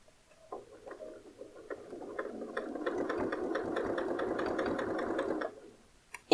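A domestic sewing machine stitches fabric, starting with a few slow, separate needle strokes before speeding into a steady, close mechanical whirr and rattle for about three seconds, then stopping, with a clunk at the end.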